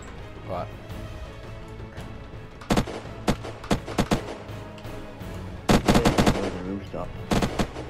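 Video game gunfire strikes at a player's base, loud rapid bursts of automatic shots in clustered volleys over a steady background, with people talking.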